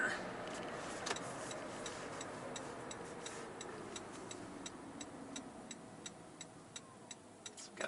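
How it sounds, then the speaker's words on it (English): Steady, evenly spaced turn-signal ticks inside a moving 2022 Toyota Prius Prime, faint over a continuous road and cabin hum. "I'm going to hit the turn signal to take the exit"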